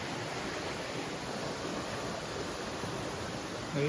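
Constant rushing water of a small waterfall on a Konkan stream fills the scene, a steady even roar nearby, with no other sounds standing out.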